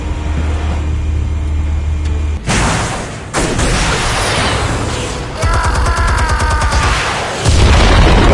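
Explosives detonate in a loud, sustained series of booms and crackling blasts under a rumbling low roar, set in a Batman video game.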